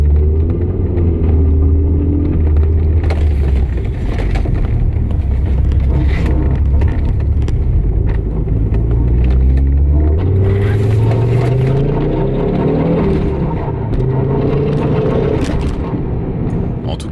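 Turbocharged engine of an Audi 200 Quattro Turbo, revived after fifteen years off the road, runs steadily with a deep continuous rumble and shifting low drone, loud and close, with no talking.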